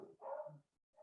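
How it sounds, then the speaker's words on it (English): Pet dogs barking indoors: one sharp bark followed by a brief tail, then the start of another, fairly close but not loud, with no talk over it. "sorry about my dogs"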